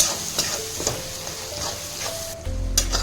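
Ground chili, coriander, turmeric and cumin frying in a pan while being stirred, a soft sizzle broken by occasional scrapes and taps, ending in a louder low rumble.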